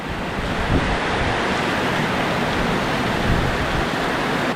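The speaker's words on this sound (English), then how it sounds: "the monsoon season is here. That is proper rain." Steady, dense roar of heavy monsoon rain pouring down, continuous and loud throughout with no voices.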